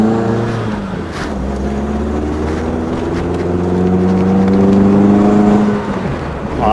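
A Peugeot 205 GTI rolls along at low speed, about 20 mph, its engine holding a steady, close hum with harmonic tones shifting as revs rise gently, running alone without talk.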